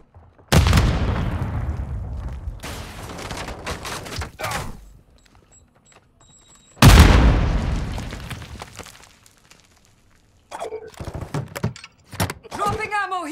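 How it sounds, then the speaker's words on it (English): A frag grenade is thrown and explodes in a first-person shooter, giving two loud, sharp booms with long rumbling tails. Short bursts of gunfire and game noise follow. "Tossing grenade!"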